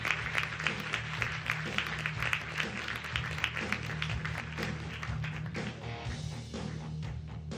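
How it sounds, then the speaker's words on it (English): Audience applauding at a startup awards ceremony, sustained clapping from a crowd in a hall over a low rhythmic music bed, with a few sharper claps standing out early on. "Make a round of applause."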